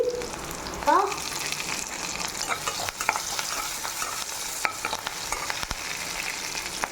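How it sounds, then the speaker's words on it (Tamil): Onions and dried chillies sizzle in a pan for tomato soup while a spoon stirs them, giving a steady frying hiss, scraping strokes and a sharp clink near the start. "இது வெங்காயம் போட்டு தாளிக்கணும் வெங்காயம் தாளிக்கிறது தான் இதுக்கு டேஸ்ட்டு நல்லாயிருக்கும்"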